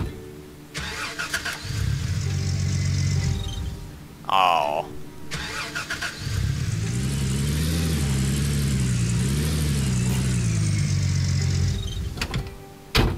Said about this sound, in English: Hold on, I'm gonna back this truck up.